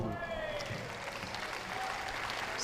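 A crowd at a men's world team squash championship match between South Africa and New Zealand applauds a rally with a steady wash of clapping throughout, while a commentator speaks over it.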